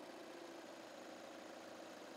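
A car engine idling after being switched on, a steady, even low hum with no change in pitch and no talk.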